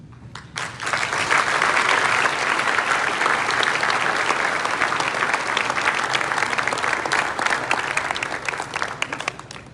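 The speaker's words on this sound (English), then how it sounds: "How about one more time, round of applause for all the award winners tonight." A full audience at a fire service awards presentation bursts into sustained, dense applause for the award winners, loud and steady for several seconds before tapering at the end.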